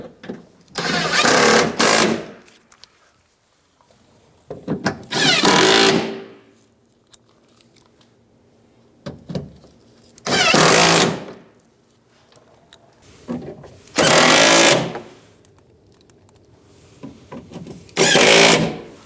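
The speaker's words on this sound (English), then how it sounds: "we can start to put a couple of these bolts back in to hold this panel in place" Power tool driving bolts into the door panel of a 2007-2015 Mazda CX-9, five loud bursts of whirring rattle about two seconds each, separated by quiet pauses.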